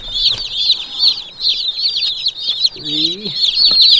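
Baby chicks peep constantly and shrilly in a brooder under a heat lamp, a dense chorus of high chirps close by, with a brief voice breaking in partway through.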